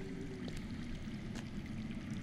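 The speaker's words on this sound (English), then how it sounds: "I hear water. From underground." Steady low rushing of water flowing underground, a continuous dull murmur with no breaks, heard alone at moderate distance.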